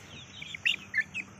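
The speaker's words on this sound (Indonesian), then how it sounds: "Dan ini anak ayam ini" Short high chirping calls from Pakhoy chickens in a backyard coop, three quick bursts over a low steady background hum, close but fairly quiet.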